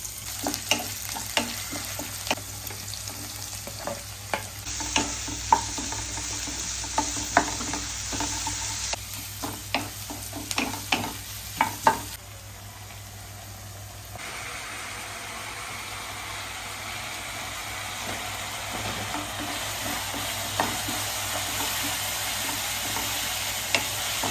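Prawn noodles cook in a pan with a steady sizzle and repeated stirring clicks and scrapes, loud and close, with no talking.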